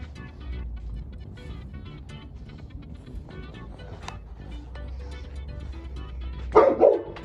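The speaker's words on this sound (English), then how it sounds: "Man, this dog." A dog barks a couple of times nearby on a residential lawn, short sharp yaps near the end over quieter outdoor background noise and faint traffic.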